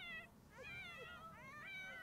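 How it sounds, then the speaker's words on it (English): Several cats meow over and over in a cluttered video game house full of abducted pets, rising and wavering cries that overlap one another against a steady low background hum. "Couldn't have anything to do with the intolerable amount of meowing in there, could it?"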